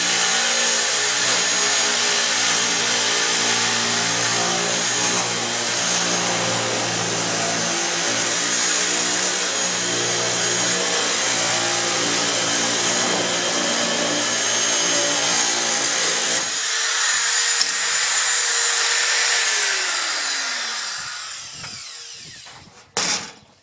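A Milwaukee 6815 electric metal shear cuts 18 gauge sheet metal with a loud, sustained buzzing whine for about sixteen seconds, then the motor pitch slides down and spins to a stop, ending with a couple of clunks.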